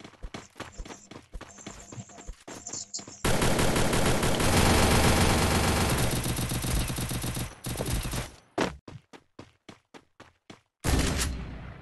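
Gunfire rattles in the mobile game Free Fire: rapid bursts of single shots, then a long sustained stream of automatic fire, then more scattered bursts, loud and close with brief talk between.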